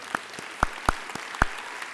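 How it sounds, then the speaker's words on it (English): An audience at a school district Juneteenth celebration claps sparsely, with a handful of distinct, separated hand claps over about two seconds rather than a full ovation, at moderate level. "Let's give a round of applause for that fact alone."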